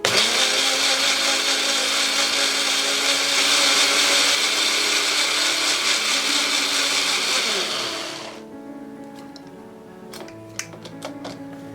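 A blender whirs loudly and steadily for about eight seconds blending jal jeera mixture with water, then cuts off, leaving a few small clinks and taps.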